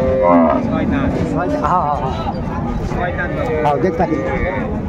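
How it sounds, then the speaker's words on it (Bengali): A Sahiwal cow with her calf moos loudly and repeatedly at a busy cattle market, the drawn-out lowing calls rising over constant crowd chatter and background bustle. "আমরা দেখছিলাম এখানে একটা সুন্দর শাহিওয়ালের গাভী বাছুর আমরা দেখছিলাম"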